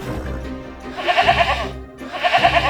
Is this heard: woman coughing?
no